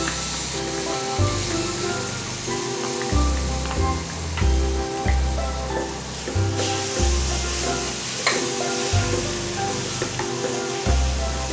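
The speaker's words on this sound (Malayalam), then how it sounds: "അതും കൂടി ഒന്ന് ഇട്ടിട്ട് നമുക്കൊന്ന്" Tomatoes ground in a mixer sizzle and roast in a hot pan for a quail egg roast. Loud, continuous frying hiss is broken by repeated scraping stirs of a spoon against the pan, close up and with no talk.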